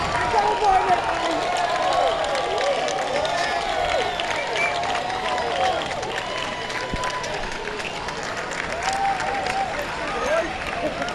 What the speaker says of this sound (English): Murray gets a great round of applause from this appreciative West Australian audience